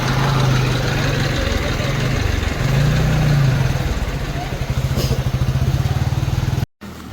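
A tractor engine chugs close by with a steady low rhythmic thump and clatter, rising and easing as it moves along a rain-soaked route toward a hill temple, then cutting out abruptly near the end.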